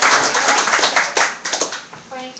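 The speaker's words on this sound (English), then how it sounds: "Round of applause." Audience clapping after a sheriff candidate's campaign speech, loud and close, a dense burst of hands that thins out toward the end as a voice briefly speaks over it.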